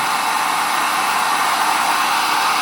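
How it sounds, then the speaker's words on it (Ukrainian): A powerful, inexpensive hair dryer bought from AliExpress blows with a loud, steady, close-up roar of motor and rushing air that holds constant for the whole stretch. "Прикольний фен."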